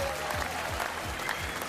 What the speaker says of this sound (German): Er hat's bestanden! Applaus, bitteschön!